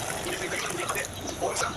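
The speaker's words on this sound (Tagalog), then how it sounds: "Lagay tayo ng isang baso ng tubig." A glass of water pours into a cooking pot of sauce made with ketchup and soy sauce, giving a brief, close, bubbly splashing trickle that runs on steadily without talk.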